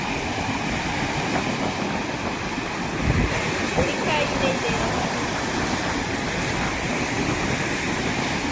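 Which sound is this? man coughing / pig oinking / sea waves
sea waves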